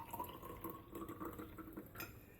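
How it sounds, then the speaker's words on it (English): Homemade elderberry syrup is poured into a sterilized glass mason jar, a soft trickle of liquid with faint glassy clinks, quiet and close with no voices. "we'll go ahead and pour off now into our sterilized mason jar"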